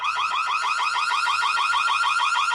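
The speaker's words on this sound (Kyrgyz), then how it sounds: "Бул жерде датчик дыма жана датчик жарыктыкты көрүүчү сигнал бар." A homemade smoke detector with a light sensor sounds its alarm, a loud, steady, rapidly warbling electronic siren that repeats evenly without a break, close and alone.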